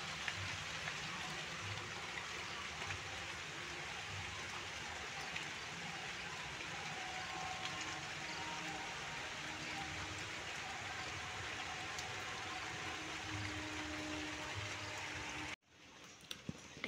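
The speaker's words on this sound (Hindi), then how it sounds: "पुणी वर्षाटा आसला" Steady rain falls outdoors at a home, a continuous broadband hiss that holds at an even level for most of the stretch before cutting out abruptly near the end.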